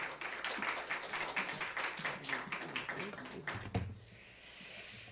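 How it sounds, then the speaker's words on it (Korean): A church congregation clapping steadily for several seconds during a Wednesday evening service, then fading out into quiet room noise. "우리 박수로 환영의 마음을 다 박수로 모시도록 하겠습니다"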